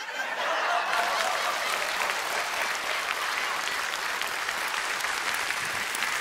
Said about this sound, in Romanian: De aceea vă rog să-l aplaudăm